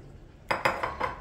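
A small metal saucepan is knocked and set down among other pots and a pitcher, giving four quick close clanks over about half a second, each ringing briefly, with no voice.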